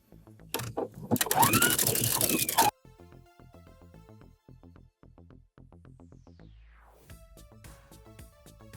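A sewing machine stitches fabric for panties in a rapid, even run of mechanical ticks, quiet and close, after a louder rustling burst of handling at the start.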